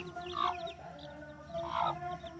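Chicken chicks cluck softly in two short bursts against a low steady background hum, close by, in a village.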